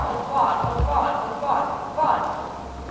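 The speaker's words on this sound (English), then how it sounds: "They are exercising to make the horse to trot into the halt and then stand still." A horse at a cavalry riding school trotting toward a halt, hooves thudding in a steady rhythmic clip-clop under a voice talking.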